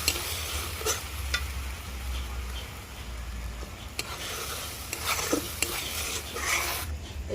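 Milk is stirred in a pot while it is added bit by bit for sweet curd, with a steady low simmer, a soft scraping swirl and a few sharp utensil clicks against the pot. No talk is heard.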